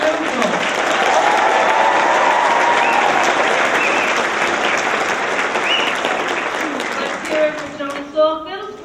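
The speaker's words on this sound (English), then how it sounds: "So we'd like to hear a round of applause or a shout out for Carl Sandburg Middle School." Audience applause and cheering for Carl Sandburg Middle School at a junior world language induction ceremony: dense, loud clapping with shouts fills most of the stretch, then thins into scattered cheers near the end.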